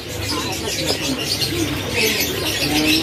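Caged birds calling at the crowded Pramuka bird market, where canaries are sold, with chirps and cooing notes overlapping under market chatter and voices, a busy, continuous mix of song and talk at moderate loudness.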